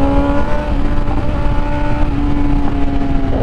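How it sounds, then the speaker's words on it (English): A Ford Mustang GT V8 engine roars loudly and continuously nearby as it downshifts, the tone holding steady with a throaty rumble. "the downshift of that thing sounds like a beast"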